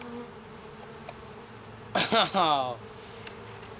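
A honeybee buzzes close by for about a second during a beehive inspection, over steady low background hum, with a brief spoken exclamation.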